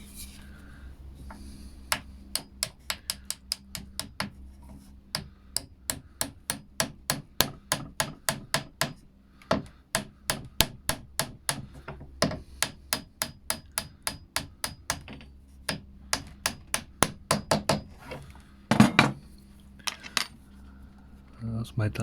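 Metal hammer strikes driving a long 6mm bolt used as a drift through a hospital bed headboard mount, dozens of sharp ringing blows in quick rhythmic runs with brief pauses, close and loud.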